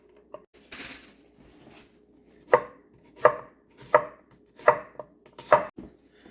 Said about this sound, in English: I'm just going to cut them into smaller pieces